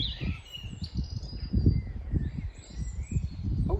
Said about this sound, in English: The old birds are going at it.